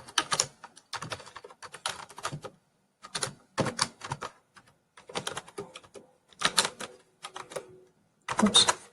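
Keys on a computer keyboard clatter in uneven bursts of typing, close and clear, broken by short pauses between runs of keystrokes, with no talk over them.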